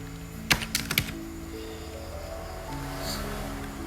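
Quick bursts of keystrokes on a computer keyboard while entering Arduino code, a few sharp clicks near the start followed by quieter tapping, close and fairly soft.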